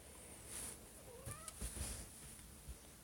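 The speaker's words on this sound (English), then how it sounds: "Cat trying to bug me while I'm playing here." A pet cat meowing indoors, a couple of short, fairly faint meows over a quiet background hiss, with no speech.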